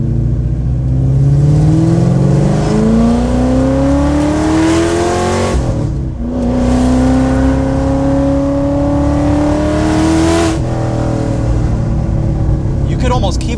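A Ford GT sports car with Heffner Performance upgrades revs loudly while driving in low gear, its engine note climbing steadily in two long pulls separated by a brief dip at a gear change, with a voice speaking over it.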